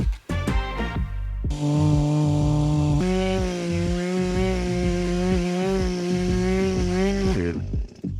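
A chainsaw cuts through wood at a work shed site, the engine holding a loud, steady whine close up for several seconds after a short revving start, then dropping away at the end.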